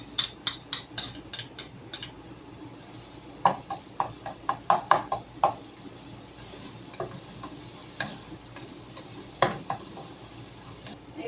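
Garlic fries in oil in a pan, a low, soft sizzle running throughout while a utensil stirs it, giving irregular clicks and scrapes against the pot in scattered bursts.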